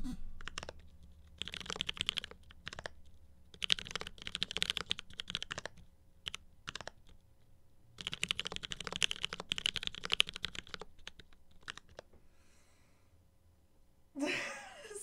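Computer keyboard typing comes in close, irregular bursts of rapid clicks separated by short pauses, with a brief voice sound near the end.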